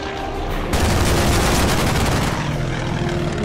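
An aircraft roars into a takeoff in a Pacific War strategy game, a loud, broad engine rush that swells sharply after a moment and holds steady, with no voices.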